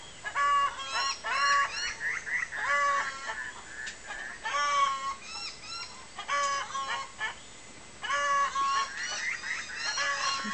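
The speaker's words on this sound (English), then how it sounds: "You can probably hear my chickens in the background" Chickens in a backyard cluck and call in repeated bursts at a moderate distance, including some honking, rooster-like squawks, with quieter stretches between the groups of calls.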